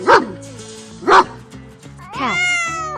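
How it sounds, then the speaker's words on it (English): A dog gives two sharp, evenly spaced barks over soft background music, followed by a drawn-out meow-like cry near the end. "dog,"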